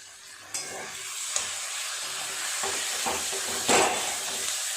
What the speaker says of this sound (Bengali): একটু তেল দিয়ে দিলাম নেড়ে চেড়ে এগুলো একটু ভেজে নিয়েছি এরপর দিয়ে দেবো মাটন কিমা